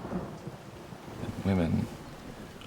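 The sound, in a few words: heavy rain with thunder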